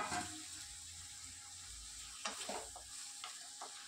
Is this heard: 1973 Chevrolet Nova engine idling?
no